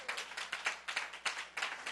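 An audience at a church sermon claps, with a quiet, loosely rhythmic run of overlapping hand claps heard from a distance and no speech over them.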